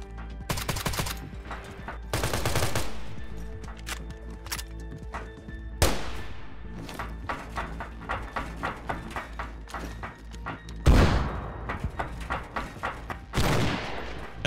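Gunfire in the DayZ survival shooter: repeated sharp gunshots in scattered single shots and short bursts, with heavy booming reports near the start, middle and end, loud and close with no talk over them.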